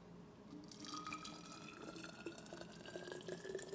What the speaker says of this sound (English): That sounds like I'm pouring water.